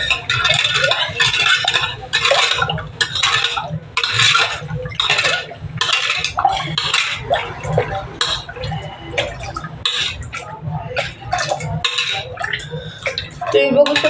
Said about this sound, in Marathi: ओके, तर आपण ह्याला आता मिक्स करूया.